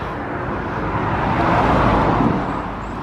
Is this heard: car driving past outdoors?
yes